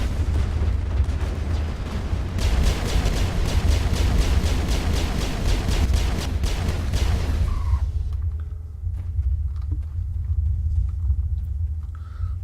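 Pistol fire in the video game Mass Effect: a rapid string of about a dozen evenly spaced sharp shots over a heavy, constant low rumble of combat, then the firing stops and the rumble continues alone.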